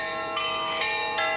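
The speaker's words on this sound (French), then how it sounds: "Dans Toulouse, on n'entend que les cloches des 21 paroisses de la ville." Church bells of the city's parishes ring out across Toulouse on the anniversary of the AZF factory explosion, with repeated tolling strikes over a sustained resonant hum.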